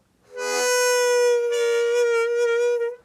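A single sustained harmonica note that sags and bends in pitch as the tongue rises too high, clear and alone, lasting about two and a half seconds.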